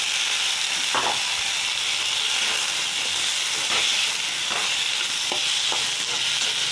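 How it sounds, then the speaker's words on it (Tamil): Onions for a vegetable curry frying in a pan, giving a continuous close sizzle and hiss with occasional stirring scrapes, and no talk. "வெங்காயம் நல்லா பொன்னிறமாக வதங்கணும்"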